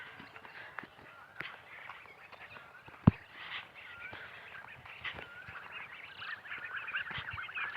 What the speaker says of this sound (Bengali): এদিকে নতুন নতুন কতগুলো হাঁস ছাড়া হয়েছে